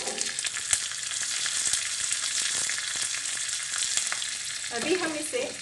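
Steady crackling sizzle of mustard seeds, cumin, green chillies and curry leaves frying in hot oil, with sharp pops and spatters scattered throughout, close up and fairly loud.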